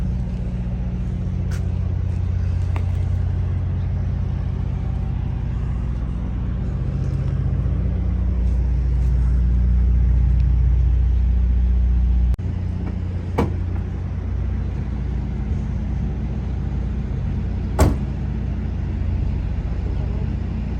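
A 1979 Chevrolet Camaro Z28 with a four-speed runs at a steady idle with a deep, continuous rumble, rising briefly partway through, then settling, with a few sharp clicks near the end.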